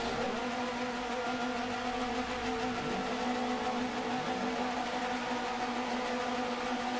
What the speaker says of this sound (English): Right, the revs are climbing again. You can hear them getting ready to go.